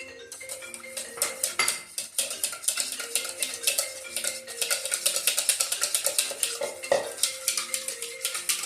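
Lime juice and zest mixture for a key lime chiffon pie being beaten in a bowl: fast, steady clinking and scraping of a whisk against the bowl, close and continuous, with no talking.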